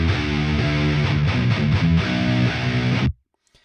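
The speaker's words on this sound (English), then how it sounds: "The palm muted guitars sound amazing." Heavy, distorted palm-muted electric guitars chug loud and dense for about three seconds, tight rhythmic stabs over a thick low end, then cut off abruptly into near silence.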